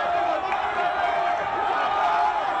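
Large crowd gathered for the inauguration of the third bridge, the Henri Konan Bédié bridge, in Abidjan, cheering and applauding in a dense, steady roar with shouts rising throughout.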